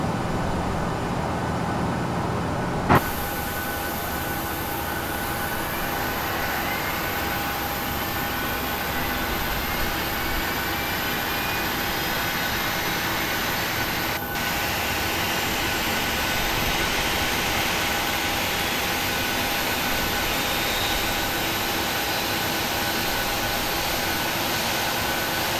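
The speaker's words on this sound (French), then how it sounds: "Démarrage moteur droit." Right jet engine of a Boeing 737-700 starting up, a steady loud whine with a rising tone building under continuous cabin and engine roar, a sharp click near the start.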